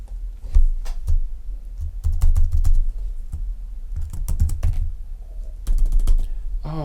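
Rapid typing on a laptop computer keyboard, close and fairly loud, in uneven bursts of sharp key clicks with short pauses between runs.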